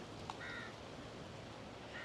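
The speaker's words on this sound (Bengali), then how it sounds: "কাকের আওয়াজ" A couple of crow caws ring out, brief and somewhat distant, against steady outdoor background noise among coconut palms on the Indian Ocean coast at Mombasa, with a sea breeze.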